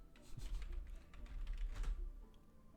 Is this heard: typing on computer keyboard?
yes